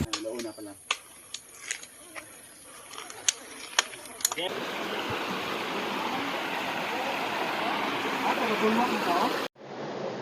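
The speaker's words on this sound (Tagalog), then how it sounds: "Andito na kami sa Nawidwid Falls." Nawidwid Falls, a waterfall feeding a rocky stream, roars as a steady broadband rush that swells in loudly after scattered clicks and footsteps, continuing close and unbroken.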